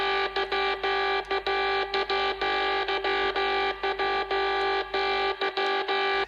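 Pitch-shifted, distorted synthesizer alarm tone processed in Cubase pulses in rapid, stuttering bursts with a harsh, buzzy steady pitch, loud and alone throughout.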